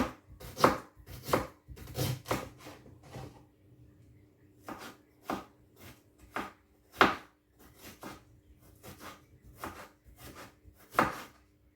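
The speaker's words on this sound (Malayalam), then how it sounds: "ഞാൻ ഇഞ്ചി വെളുത്തുള്ളിയൊക്കെ ഒന്ന് കട്ട് ചെയ്തെടുക്കാം" A knife chops ginger and garlic on a board in irregular bursts of crisp, close thuds, with short pauses between quick runs of strokes.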